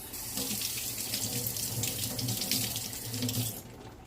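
Tap water runs steadily into a kitchen sink while a smoked pork shoulder butt is rinsed, a continuous close splashing hiss that cuts off abruptly near the end.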